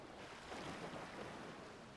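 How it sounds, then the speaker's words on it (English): Pacific Ocean waves washing onto a beach in Costa Rica, a soft continuous surf roar heard from a distance with some wind, no voices. "The waves of the Pacific crashing up onto the beach"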